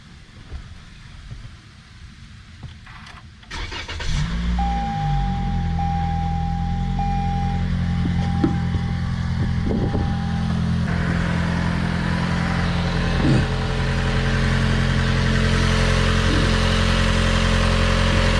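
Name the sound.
2020 Toyota Corolla engine starting and idling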